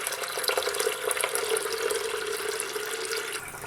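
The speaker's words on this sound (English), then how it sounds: "we're gonna fill that with filtered water" Filtered water runs steadily into the reservoir of a milk maker for homemade almond milk, a continuous close pouring and splashing stream that holds throughout with no talk.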